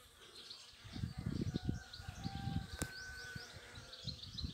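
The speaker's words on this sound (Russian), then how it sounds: "ну пчелки работают" Bees work around a beehive outdoors, a low soft buzzing hum that swells and fades with passing insects, faint and fairly distant, with light bird chirps scattered over the top.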